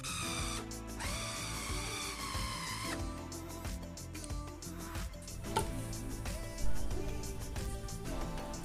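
An electric food chopper grinds beef meatball dough in sustained motor whirring and grinding bursts that shift in pitch, with clattering mechanical noise, steady and close with no voices.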